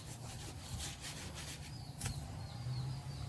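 A knife blade rasps through a tough Colocasia rhizome, splitting it in half, in steady scraping strokes, close up, with a faint bird chirp in the background.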